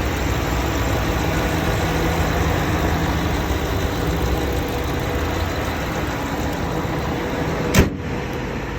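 A 2016 Ram 2500 ST regular-cab utility truck with the 6.4L Hemi engine idles in a steady, even rumble with broad engine noise. A single brief thump lands near the end, and no one speaks.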